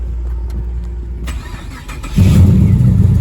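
A Volvo 780 Coupe drag car being started: a low rumble and cranking, then the engine catches and settles into a loud, deep idle, heard close up without talking.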